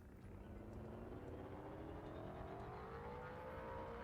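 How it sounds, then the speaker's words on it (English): Spaceship engine in Elite Dangerous, with a steady loud droning hum and a rising whining tone that slowly climbs in pitch, sounding like an old, clunky ship, with no voices over it. "Oh, listen to that engine."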